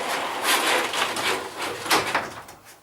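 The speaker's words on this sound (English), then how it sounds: "I'll pull the door up and you can see that the door goes past" An up-and-over garage door in a garage fitted with shelving is pulled up, giving a soft sliding, rumbling swish with a few faint knocks, fairly quiet and close.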